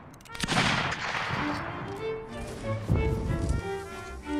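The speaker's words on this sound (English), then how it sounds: "Fire one more shot and then hold your fire." Musket volley fire in a linebattle video game, a dense ragged crackle of shots up front, a lull, then another burst near the three-second mark.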